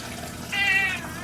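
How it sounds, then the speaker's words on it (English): A cat perched on top of a fish tank gives one short, clear meow close by, over a low background hum from the tank. "my cat sitting on top of the fish tank"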